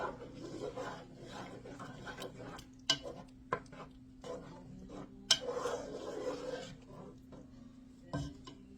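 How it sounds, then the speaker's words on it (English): Clam chowder with added clam juice being stirred in a pot: soft, intermittent scraping and rubbing with a few sharp clinks of a utensil against the pot, quiet and close, over a low steady hum. "Just stir that a little bit."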